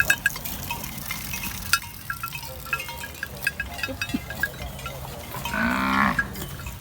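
Cattle mooing in an open field where a free-grazing Thai herd of cows and calves roams; one clear low moo swells near the end over a faint outdoor background, with scattered small knocks and no talk.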